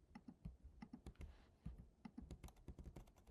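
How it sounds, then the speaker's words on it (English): A computer keyboard is typed on in quick, uneven bursts of close, crisp key clicks with short pauses between them, quiet and with no voices. "Let's see if my keyboard will work."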